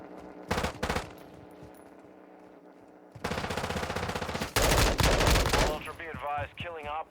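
Video game gunfire comes in rapid bursts: scattered shots at first, then dense automatic fire that grows louder and closer, with voices talking in the mix.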